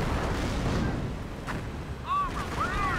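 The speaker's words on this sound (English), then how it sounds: "And now, here's her registered artillery." Artillery barrage in Company of Heroes, a WWII real-time strategy game: dull distant booms and rumbling impacts over a background battle din, with a voice speaking in the mix.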